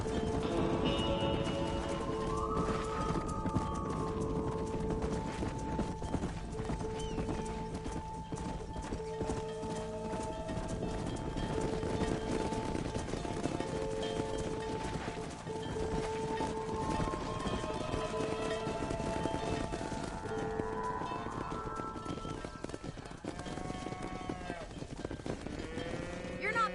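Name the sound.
cattle herd and horses in video game Red Dead Redemption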